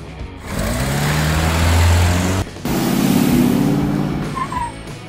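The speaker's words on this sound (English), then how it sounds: "Pickup truck." A pickup truck engine runs steadily with a low, continuous drone, loud and close, dropping out briefly partway through before resuming.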